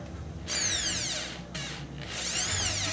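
A power drill runs in two sustained bursts with rising and falling motor pitch, driving into a PC case during a computer build, close and loud with no talking.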